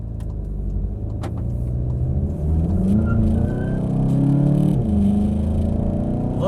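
A Volkswagen Mk7 GTI accelerating from inside the cabin, a low engine drone swelling as revs climb with slight turbo lag, steady and moderately loud with no talk.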